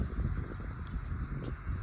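Wind blowing across an open high-desert lunch stop in eastern Oregon, a steady low rushing roar that buffets the microphone with no other clear sounds.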